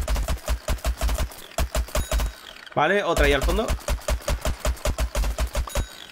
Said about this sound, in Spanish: Si preguntáis por qué disparo así en esas ráfagas, es para que los tiros vayan rectos